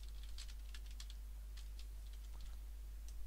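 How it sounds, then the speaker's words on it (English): Computer keyboard being tapped to enter a password on a Windows Server 2012 machine, a few soft, sparse key clicks spread over a few seconds under a steady low hum; no talking. "Let me type down my very secret password."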